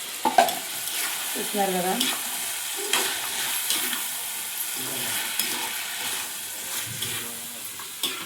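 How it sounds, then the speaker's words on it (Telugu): Crabs being stirred and fried with softened tomatoes in a pan, a steady sizzle with repeated scraping stir strokes throughout, while someone talks over the cooking. "ఇప్పుడు పీతలు వేసుకొని కలుపుకుందాం."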